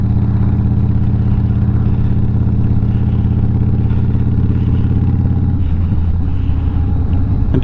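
A motorcycle engine fitted with a Monster Sucker intake mod rumbles loud and close at a steady idle, its throbbing pulse shifting slightly near the end.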